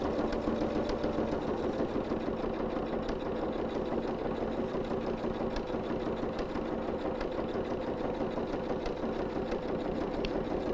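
A sewing machine stitches a boning channel, its motor humming continuously and evenly at close range for the whole stretch with no pauses.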